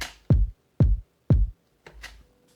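A looped drum sample plays through a sampler in Ableton, every hit at full velocity: three identical punchy, booming hits evenly spaced, then a softer, shorter fourth, each alone and close.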